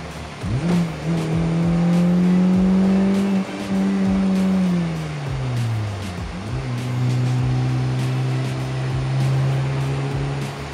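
An R50 Mini Cooper driving through a corner in second gear, engine note rising as it pulls, dipping as revs fall near the middle, then climbing again, heard loud from inside the car without talk.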